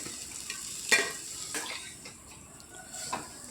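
Finely chopped spinach is stirred into a cooked mixture in a pan, with a few scraping spoon strokes and a faint sizzle, quiet and close.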